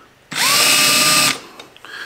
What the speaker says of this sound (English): I just go ahead and mark with the drill